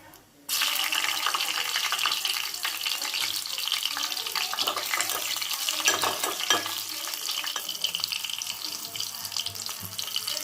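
Steady hissing sizzle of green chili frying in hot oil, loud and close, starting abruptly after a brief quiet moment and continuing throughout.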